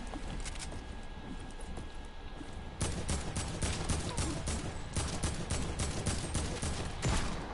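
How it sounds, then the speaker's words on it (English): Gunshots in a video game: first a quieter patter of shots, then from midway a dense, loud volley of rapid fire that keeps going to the end over a low rumbling background. No voices. "How's none of those shots hitting?"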